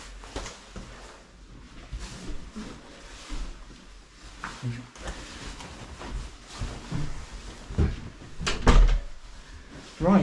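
A door opens and closes at lodgings for the night on a Scotland motorcycle trip, with knocks and thuds building toward the end, while people talk quietly in the background.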